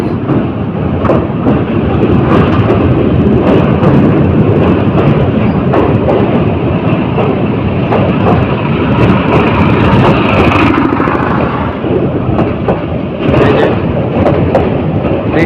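A Titas Commuter train crosses a river bridge between Bhairab and Tongi, a loud, continuous rumbling roar with rhythmic clatter of wheels heard from on board, steady for the whole stretch.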